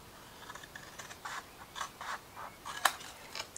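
Scissors snip repeatedly through material in a quiet room, a series of short crisp cuts in an uneven rhythm, close and fairly soft, with one sharper cut near the end.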